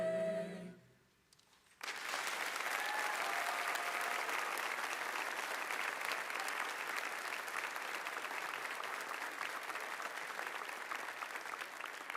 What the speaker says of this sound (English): Could we get one more round of applause for all the staff and all the students?